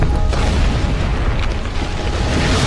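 An explosion in Max Payne 3 roars as a loud, dense, continuous boom and rumble filling the whole moment, with no voices over it.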